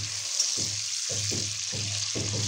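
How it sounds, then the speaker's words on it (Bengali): Cubed potatoes frying in hot mustard oil in a pan, a faint steady sizzle with soft rhythmic stirring or tossing sounds recurring about every half second. "সর্ষের তেলটা গরম করার সময় পরিমাণ মতো নুন দিয়ে নিয়েছি, আলুগুলো ভেজে উঠিয়ে নেব।"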